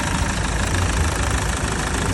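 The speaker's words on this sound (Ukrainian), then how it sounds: "Так, двигун працює" A 2013 Iveco Daily van engine idles steadily and evenly close by, a constant low hum without vibration, with no talking and no change in pace.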